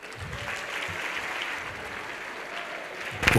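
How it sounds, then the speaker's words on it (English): Audience applause at a youth empowerment event, a steady rattle of clapping from a crowd held at a moderate level, ending with a sudden louder bump near the close. "Can you please give him a round of applause?"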